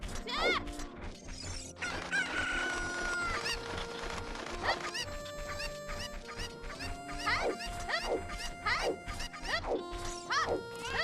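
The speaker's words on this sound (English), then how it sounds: "Oh, we got some chickens." Chickens clucking and squawking in a video game, repeated short rising calls over a busy bed of chiming game music and mechanical clicks.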